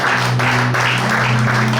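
A church congregation at a Pentecost seminar applauds and cheers together, with dense continuous clapping and acclaiming voices filling a large hall, loud and steady throughout.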